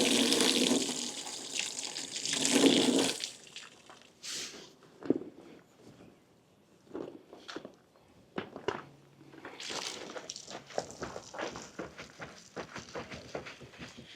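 Vehicle washed with water and a Tellus Pro telescopic wash brush, a loud rush of spraying water at first, then scattered splashes, scrubbing and wet swishes with intermittent drips and footsteps-like knocks.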